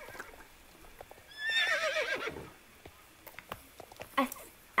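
A horse in the Star Stable video game gives a clear, wavering whinny midway. Sparse hoof taps and clicks follow against a quiet background.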